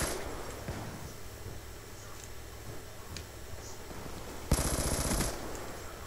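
Black Ops 2 gunfire in a Gun Game match: sparse faint ticking early on, then a sudden loud burst of rapid automatic fire lasting under a second near the end.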